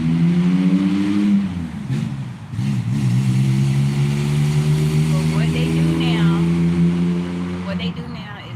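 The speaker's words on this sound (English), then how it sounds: "they crank up their loud cars or whatever, and they just keep revving it up, revving it up" Loud cars rev their engines repeatedly close by in a neighbourhood, the deep droning roar rising and holding with a brief dip partway through, while a person speaks briefly over it.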